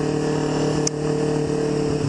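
A motorbike rides through Brisbane city streets at around 40 km/h, its engine a steady droning hum with harmonic tones, continuous and close throughout with a brief sharp blip partway.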